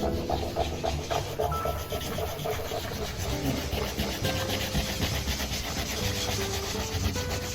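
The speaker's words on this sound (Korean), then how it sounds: "나무에 따라서 사포의 소리도 달라요." Sandpaper rubbed over maple wood by hand, a close, steady scratchy rasping in rhythmic back-and-forth strokes with no talk.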